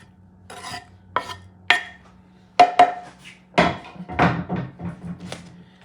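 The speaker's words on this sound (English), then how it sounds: "Olive, which I chop." A knife chops olives on a board for a Puerto Rican octopus salad: about eight sharp, close, irregular chops with short pauses between them.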